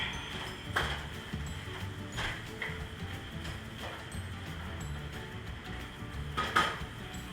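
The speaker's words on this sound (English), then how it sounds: "Let me mix it up." A spoon stirs Cajun shrimp pasta ingredients in a pot, producing scattered metallic clinks and scrapes against the pot over a steady background hiss, fairly close and moderately loud.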